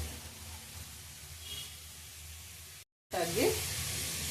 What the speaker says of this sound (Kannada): ಇವಾಗ ಇದನ್ನು ಫ್ರೈ ಮಾಡ್ಕೊಳ್ಳೋಣ